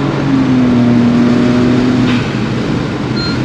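A Honda S660 mini midship roadster with about 150,000 km on it revs quickly toward 6000 rpm, its engine note rising in a loud steady climb inside the cabin, then settling into a sustained drone.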